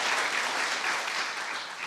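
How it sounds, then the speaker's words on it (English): Audience at a Sandoval county board meeting clapping in a steady, full round of applause, loud and sustained from start to finish with no speech over it. "one more round of applause for him"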